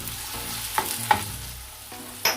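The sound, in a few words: stirring potatoes with tomato and green chili on tawa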